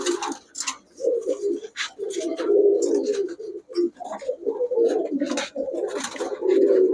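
Pakistani 35 pigeons coo in repeated rolling bursts with short gaps between, close and clear, alongside flapping and shuffling noises from the birds.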